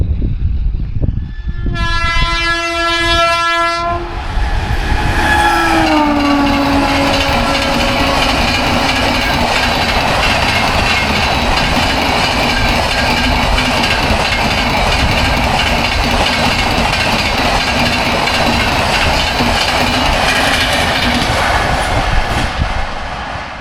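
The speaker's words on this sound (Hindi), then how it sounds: "ये निकली थी 12431 तिरुवनंतपुरम हज़रत निज़ामुद्दीन राजधानी" Rajdhani Express (12431 Thiruvananthapuram–Hazrat Nizamuddin) sounds a long horn blast, then rushes past at speed with a loud, steady roar of rolling wheels and wagon rattle that holds throughout.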